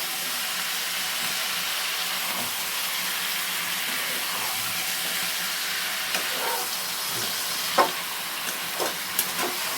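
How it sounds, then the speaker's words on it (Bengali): Chicken pieces frying in hot oil in a kadai with browned onions, giving a steady sizzling hiss throughout, with a few sharp scraping knocks of stirring toward the end. "এবার চিকেনটাও একটু তেলে নাড়াচাড়া করে নিলে দেখো বেশ ভালোই হবে।"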